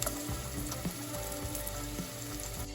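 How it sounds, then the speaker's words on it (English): Garlic sizzles in hot olive oil with chili in a pan, a steady close crackling fry with a few soft pops and spatters, no voices. "We're just cooking the garlic."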